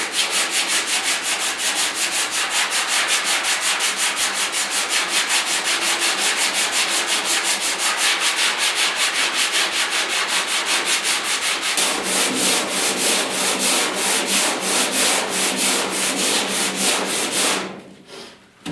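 Steady rhythmic scraping of a profiled sanding block rubbed back and forth over the cab bodywork of a 1972 Ford F100 4x4 truck, continuous and close, stopping abruptly near the end.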